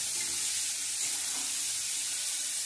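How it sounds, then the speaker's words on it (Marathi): Finely chopped onions fry in a hot pan over full gas for a masoor lentil amti, giving a loud, steady, unbroken sizzling hiss with no talking. "आता कांदा टाकून घेतलेला आहे, गॅस फुल केलाय मी।"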